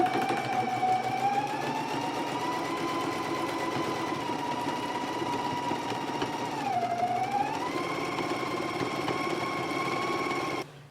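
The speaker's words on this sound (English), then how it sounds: "we can go to the machine and stitch it at a 5/8 of an inch seam allowance" A sewing machine runs steadily while stitching the side seam of a skirt at a 5/8 inch seam allowance, one continuous motor whir that dips briefly in pitch midway, then stops abruptly at the end.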